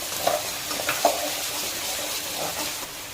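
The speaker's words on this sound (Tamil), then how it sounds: "எண்ணெய் போடுறேன் ஃபஸ்ட்டு. நல்லா பொரிக்கிட்டோம். இப்போ மிளகு போடுறோம்." Soft crackling sizzle of black pepper and cumin frying in hot oil, with a few light clinks of stirring, steady and close, no talking.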